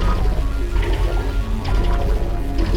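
Moving wall panels in the Portal 2 video game give a steady mechanical grinding and ratcheting, with clicking gear-like textures running continuously at even loudness throughout, heard alone with no voices.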